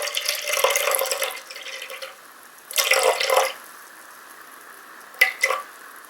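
Cold water runs from a kitchen tap while fruit-yeast dough is being prepared, splashing in a steady stream for about two seconds, then returning in a shorter burst and a brief final spurt, close and fairly loud with no talking.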